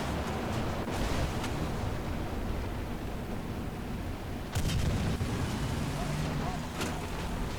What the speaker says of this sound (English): I think I just shot that down his barrel